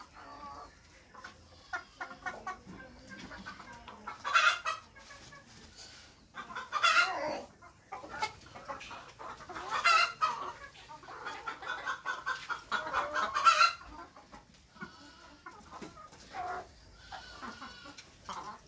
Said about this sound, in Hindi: ये मुर्गियाँ मेरे जो है सभी अंडा देने वाले मुर्गियाँ हैं